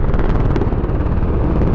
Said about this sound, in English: explosions and a flying by helicopter wake her up